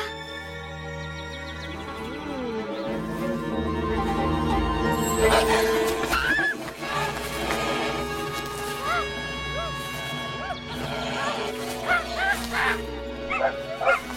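Cartoon dogs bark and yip in a lively burst, several excited barks overlapping with whimpers, set against animated music and sound effects, with characters shouting urgently over the commotion.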